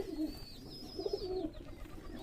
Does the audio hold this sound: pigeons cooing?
yes